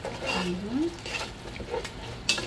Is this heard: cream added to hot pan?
yes